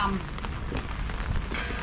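Steady rain patters and hisses across the grounds of Wat Yai Chai Mongkhon temple in Ayutthaya, Thailand, during a storm, a dense continuous wash of droplets with no pauses.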